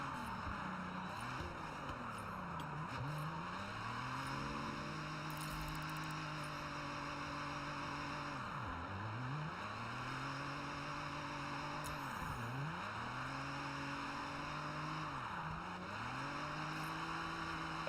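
A Mazda Miata and other cars drive in Forza Horizon, their engines droning steadily with repeated revving rises and dips in pitch, continuous and moderately loud with no talk.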